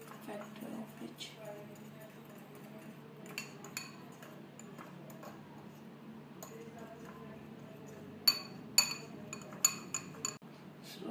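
Pizza tart batter stirred in a glass bowl, soft continuous scraping with sharper clinks of the utensil against the glass growing louder toward the end, under a faint background hum; quiet talking is also present.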